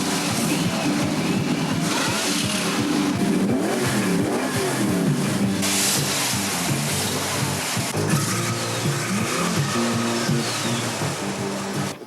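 A 1932 Roadster with a 327 Corvette V8, turbo 400 transmission and Ford 9-inch rear end revs repeatedly, its loud, close engine note rising and falling in throaty sweeps over idle rumble.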